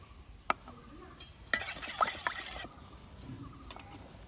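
A whisk stirs eggless orange cake batter made with sour yogurt and white oil in a bowl, giving faint, scattered clinks and wet swishes with a brief burst of quicker strokes midway.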